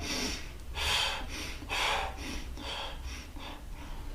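A voice imitates a breathless person panting, giving about five rhythmic forceful breaths, near and clear, with no other sound.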